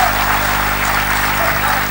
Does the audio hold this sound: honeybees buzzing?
no